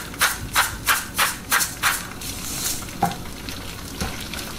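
Eggs and chorizo sizzling together in a hot pan while being stirred, with a run of six rhythmic scraping strokes up front, then a steadier frying hiss broken by a couple of sharper knocks, close and moderately loud with no talk.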